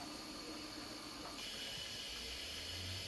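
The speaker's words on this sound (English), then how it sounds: "So it looks like I'm getting a little steam leakage from the between the lid and the pot." Steam hisses steadily from a gap between the lid and the pot of a kettle on a boil, a continuous broadband rush with a low rumble joining near the end.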